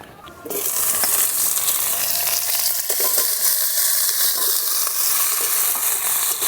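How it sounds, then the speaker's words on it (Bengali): Small diced eggplant pieces dropped into a pan of hot oil with red-fried tempering and a bay leaf burst into a loud, continuous sizzle, with occasional stirring scrapes close by. "বেগুনটা আমি ভালো করে একটু ভেজে নেব।"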